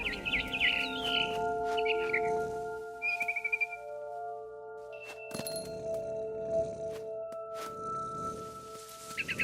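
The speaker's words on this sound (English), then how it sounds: "Then I heard chirping outside my window. It was a barn swallow going back to her nest." A barn swallow chirps and twitters in bursts in What Remains of Edith Finch, bright calls over a steady tonal music bed with a few sharp clicks.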